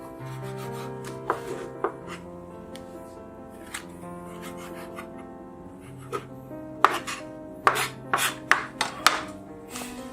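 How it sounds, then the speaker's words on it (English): Knife chopping chipped beef into bite-size pieces on a board, a few sparse taps early then a quicker cluster of crisp cutting knocks, under soft background music without speech. "what I do is I just simply cut into what would be, bite size"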